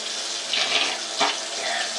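Water runs steadily from a tap into a sink while a child rinses his mouth after pulling out a tooth, a constant close hiss with small splashy swells.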